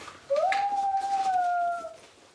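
A voice imitates a wolf howl: a single sustained, rising then level tonal wail lasting over a second and a half, close and fairly loud, fading at the end.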